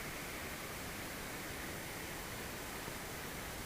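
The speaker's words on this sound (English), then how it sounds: "this is Crescent Creek" Steady broadband rushing of Crescent Creek in the Bear River Mountains, constant and fairly soft, with no voices or other sounds.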